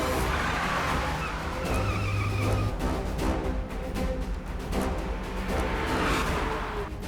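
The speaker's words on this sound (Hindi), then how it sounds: "जल्दी गाड़ी घुमाओ, जल्दी।" A car swings around fast in a crime-thriller movie scene, tires skidding and engine roaring in a sustained loud rush with whooshing passes, no talk over it.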